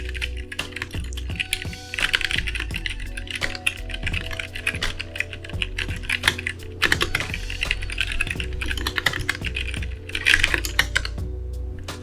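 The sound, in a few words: typing on mechanical keyboard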